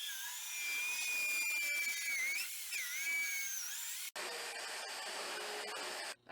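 An Evolution magnetic drill, clamped to steel on a trailer, whines loudly and steadily while drilling holes in steel, its pitch wavering under load, cutting off abruptly, then resuming with a rougher, grittier tone.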